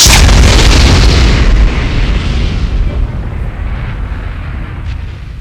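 A deep, booming explosion effect of a giant meteor striking the Earth, very loud with heavy low rumble, fading slowly over several seconds with no talk.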